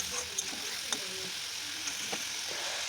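Spice paste with a splash of water being sautéed in a pan for Bengali egg curry, a steady soft sizzle with a few light scrapes of a spoon, close and continuous without talk.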